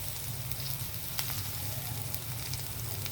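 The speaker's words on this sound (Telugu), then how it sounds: "ఈ అల్లం వెల్లుల్లి పేస్ట్ వేగేటప్పుడే మనం పచ్చిమిర్చి, కరివేపాకు వేసేద్దాం." Ginger garlic paste sizzling in hot oil with green chillies and curry leaves, a steady close crackling hiss with a few sharper pops, no talk.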